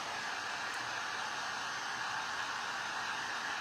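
A hair dryer blows on painted fabric so the colors won't run, a steady, even rushing hiss that holds unchanged and fairly faint throughout, with no talking.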